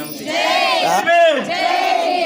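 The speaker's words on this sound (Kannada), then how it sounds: "ಒಂದೇ ಸತಿ ಜೈ ಹೊಡ್ರಿ ಬಾಬಾ ಸಾಹೇಬ್ ಅಂಬೇಡ್ಕರ್ ಒಂದೇ ಸತಿ." A crowd at an Ambedkar Jayanti rally in Bidar roars "Jai" in unison, two or three loud sustained collective shouts rising and falling close by.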